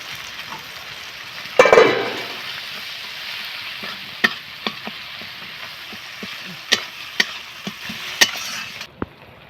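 Onion, ground turmeric and paste of ginger frying in oil in a pan as a spatula stirs, giving a steady soft sizzle with a louder scraping burst near the start and scattered sharp clinks of the utensil against the pan.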